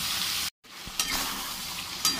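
Marinated chicken, coated in salt, turmeric and mustard oil, sizzles in a hot pan with a steady bright hiss, cut by a brief gap and a few sharp spatters and clinks.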